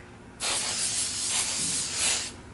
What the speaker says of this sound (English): I'm going to actually spray it with hairspray on every single one of these now.